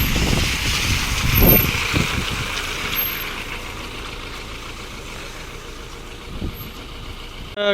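A Mahindra Bolero Maxx pickup truck pulls up with its diesel engine rumbling louder as it nears, then settling into a steady idle, heard outdoors at moderate distance.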